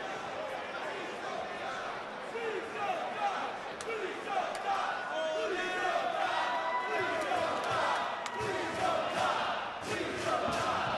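A large Ring of Honor wrestling crowd keeps up a constant rumbling buzz with scattered shouts and swells of noise, while commentators talk over it.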